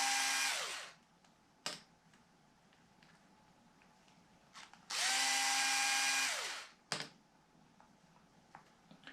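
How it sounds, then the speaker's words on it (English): A power drill used as a driver to crack loose a screw whines up in two sustained bursts, each winding down, with short blips of the trigger and faint clicks between them. "I'll use it like a driver first just to crack it"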